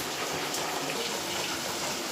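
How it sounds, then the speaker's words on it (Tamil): Water pours steadily into a cooking pot in a home kitchen, a continuous close splashing rush that holds an even level throughout, with no talking. "இதில் இன்னும் ஒரு சொம்புக்கு தண்ணி ஊற்றிக்கிறேன்"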